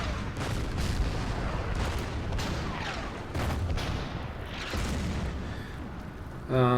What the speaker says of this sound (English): The other artillery will shoot on these guys.